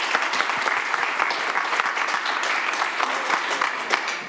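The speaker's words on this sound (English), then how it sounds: "Another round of applause for all these guys to answer the questions." Steady audience applause for a panel of experts fills the room, dense and continuous clapping from a sizable crowd with no voices standing out.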